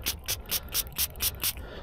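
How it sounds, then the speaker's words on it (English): A trigger spray bottle squirts water onto a dug-up 1960 Washington silver quarter in the woods, giving about seven quick, evenly spaced hissing bursts close by. "Let's spray it off anyhow."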